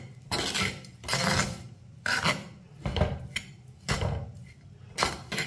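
A spoon scrapes rhythmically through ragi puttu mixed with onion in a bowl, six distinct scraping strokes about one per second, close and clear with quiet gaps between and no talk.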